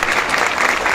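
Loud, steady applause from a rally crowd in a village gathering, a dense continuous clapping filling the whole short moment with no voices over it.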